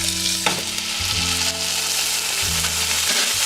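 Lean ground beef, 93.7 percent lean, sizzles steadily in hot olive oil in a pan for chili, a dense close frying hiss with a few stirring scrapes and no talking.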